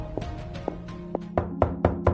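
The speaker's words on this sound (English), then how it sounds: "I took his dagger and went to knock on Madame Frances's door" Knuckles rap on a wooden door at night as a story sound effect, a few sparse single knocks followed by a quicker, louder run of four or five knocks, close and with no voices.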